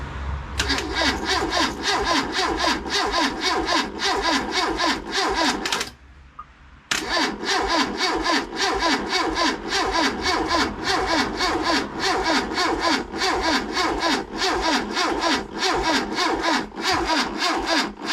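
A Classic Mini with a 1380 engine starting: close, loud mid-pitched engine running with revving and a steady rattling pulse, cutting out briefly and then catching again and running on.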